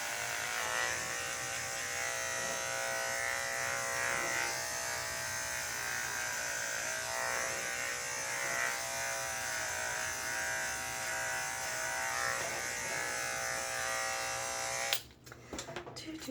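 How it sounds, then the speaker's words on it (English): An electric shaver runs over a head during a shave, giving a steady, close mechanical buzz with a slight shifting tone as it moves across the scalp, stopping abruptly near the end. "I know this is gonna be super weird while I'm shaving my head"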